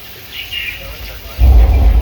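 A deep thunder rumble effect plays during the Universal Studios Hollywood studio tram tour, starting faint, then surging to a loud, heavy low roar in the second half.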